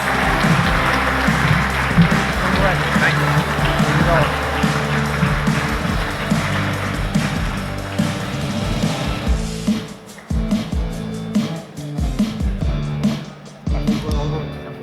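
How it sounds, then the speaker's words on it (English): At a startup pitch competition grand final, the audience applauds the winner with a dense burst of clapping. Music plays underneath, and the applause thins out midway as the music carries on alone with punchy beats. "Sifi, congratulations! Big applause."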